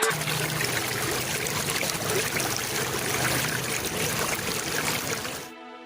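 Water is poured over firewood stacked on an altar, soaking the wood. A steady, loud rush of pouring water runs for several seconds, then stops abruptly.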